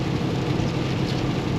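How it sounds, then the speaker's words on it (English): Heavy rain pours steadily on a truck driving the Interstate 5 Grapevine in a wet, windy storm, a dense continuous wash of drumming and hiss with no breaks, loud and close, with no talking. "Rain hasn't let up one bit."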